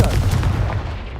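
A Confringo explosive spell blast in Hogwarts Legacy, a single loud booming impact with a brief rumbling decay, heard alone and close.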